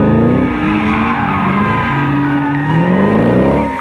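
Race cars drifting at Laguna Seca, tires squealing in long rising and falling wails over loud engine roar, close and sustained throughout with no talking.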